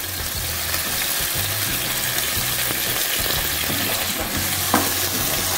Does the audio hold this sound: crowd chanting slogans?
no